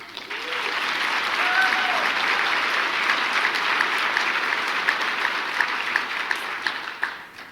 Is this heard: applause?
yes